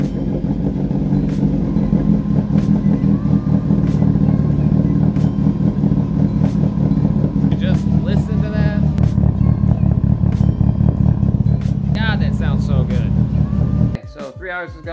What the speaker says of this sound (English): Here's a cold startup on Midori.